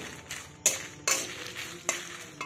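Dried red chillies and bay leaves frying in oil in a wok for a tamarind pickle, a soft continuous sizzle punctuated by several sharp scraping stirs of a metal utensil against the pan, close up and without speech.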